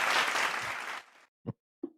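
Burst of applause and clapping from an audience that thins out over about a second, followed by two isolated single claps after a short silence.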